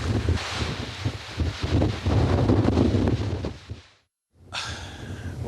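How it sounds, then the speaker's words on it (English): Strong wind by cliffs buffets and roars across the microphone in loud gusts, cutting out briefly before rushing back in. "it's pretty windy out here"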